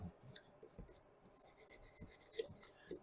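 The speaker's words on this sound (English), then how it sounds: "I'm going to take a little steel brush and just get some of the crap off of the nut." A small steel brush scrubs dirt off a nut on a VW Beetle steering box, making a faint, close, dry rasping in quick uneven strokes.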